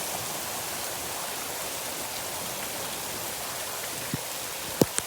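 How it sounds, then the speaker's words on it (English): Heavy rain pours steadily over a backyard garden, a dense even hiss of drops on surfaces with a few sharper splashes or taps near the end and no talking. "Oh my gosh, look at the rain."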